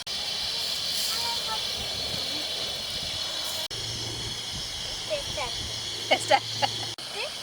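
Sankara fish curry simmers in a pot, giving a steady broadband bubbling hiss throughout, with a brief break midway and faint voices near the end.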